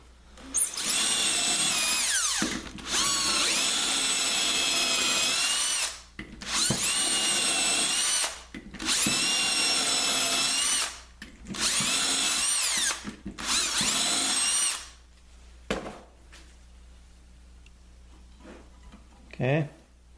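Power drill boring into wood while building a pool table light, loud whining bursts in five separate runs of a second or two each, followed by quieter handling and a short final buzz.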